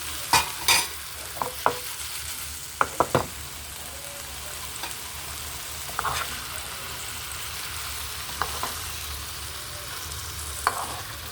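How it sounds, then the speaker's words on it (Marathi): Cauliflower, capsicum, potato and brinjal fry in a pan while a spoon stirs them, giving a steady low sizzle broken by scattered scraping clanks against the pan, with no talking. "आता छानपैकी मिक्स करून घेऊया"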